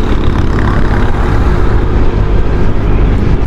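A Honda PCX scooter with about 1,285 km on it drones loudly at close range on a morning ride, steady low engine and road rumble mixed with heavy wind buffeting.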